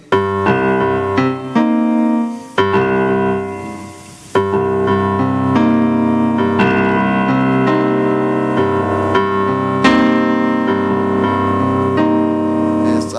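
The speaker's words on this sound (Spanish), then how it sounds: "Pero también está el swing 3/4, que suena así." A lilting jazz swing groove in 3/4 time, with walking bass and comping chords played steadily and cleanly, loud and up close with no voices.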